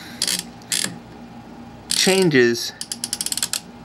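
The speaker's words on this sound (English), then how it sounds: "So the block slides back and forth." An old free sewing machine's internal mechanism works by hand, its block sliding back and forth in a slot, giving short ratcheting clicks, a creaking sweep, then a quick run of close, evenly spaced mechanical ticks.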